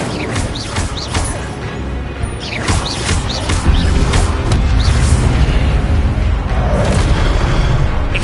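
Fire spell Incendio cast in the Hogwarts Legacy video game: loud booming whooshes and crackling bursts, several swept magic effects followed by a sustained roaring rumble.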